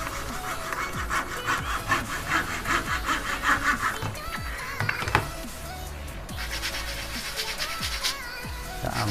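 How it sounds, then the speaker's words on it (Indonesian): A hand saw cuts through plywood for a handmade RC yacht, its repeated back-and-forth strokes rasping in an uneven rhythm, close and moderately loud. "Potong manual saja ini."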